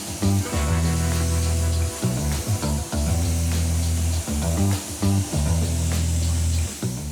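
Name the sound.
water spray rinsing car wheel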